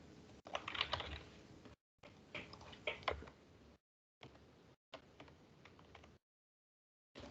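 Quick bursts of keystrokes on a computer keyboard as a postcode is entered, clustered clicks in short runs separated by gaps of silence, close and fairly quiet.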